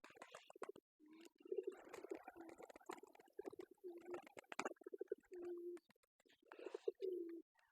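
Pigeons coo repeatedly up close in a cage, low throaty calls in a loose rhythm, with light rustling and shuffling between them.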